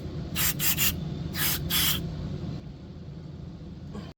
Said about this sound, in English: Just give this one more spray.